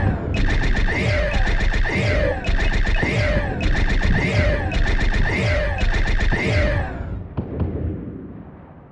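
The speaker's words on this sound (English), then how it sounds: "Target the nearby ship and fire phasers at it." Repeated phaser volleys in the Star Trek: Bridge Crew game, fired at a nearby ship: six loud, rhythmic sweeping bursts about a second apart, ending in a fading rumble.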